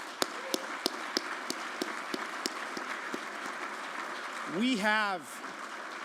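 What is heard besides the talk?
audience applause at a conference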